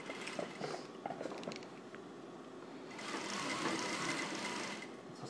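A sewing machine runs steadily while stitching a slightly curved blouse seam at a half-inch allowance, a soft continuous whir that grows louder and denser partway through.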